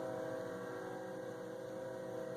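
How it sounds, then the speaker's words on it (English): A distant train sounds a long, sustained horn-like tone that stays steady and faint over a low rumble, with no voices. "train off in the distance that really wants me to know that they're here."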